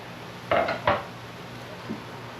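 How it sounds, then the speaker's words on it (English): A lid goes onto a pan of cube steak with mushrooms and onion, giving two quick metallic clanks close together, then a faint tap a moment later against a quiet room background. "We're going to put the lid on that and let it cook for a little bit."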